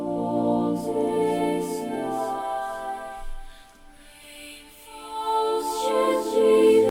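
A melodic musical phrase plays with delay-effect echoes trailing behind it, a low cut filter making the repeats sound thin and lacking low end, dipping briefly before swelling again.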